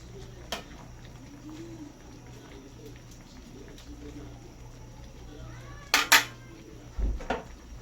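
A metal lid is set onto a pot of shrimp sinigang with Chinese pechay, giving a couple of sharp clanks and a short rattle near the end, over a quiet kitchen background.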